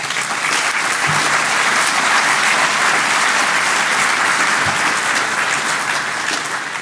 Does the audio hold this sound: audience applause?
yes